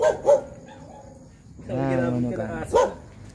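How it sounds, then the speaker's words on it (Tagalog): A dog at a gamefowl farm gives a couple of sharp barks, followed by a drawn-out whining yelp and another bark, fairly close. "Nagba-vlog tayo habulin tayo ng aso."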